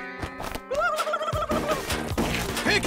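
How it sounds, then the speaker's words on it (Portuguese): A cartoon turkey gobbles in a rapid warbling run over background music, loud and close, with crash and whack sound effects around it in an animated children's adventure show. "Hora de usar a linguagem do peru."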